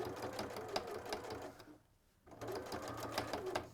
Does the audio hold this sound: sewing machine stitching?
yes